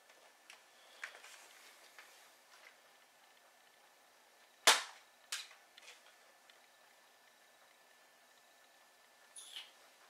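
A NERF Zombie Strike Sledgefire blaster fires with one sharp crack near the middle, surrounded by faint clicks and handling taps of loading, with no talking.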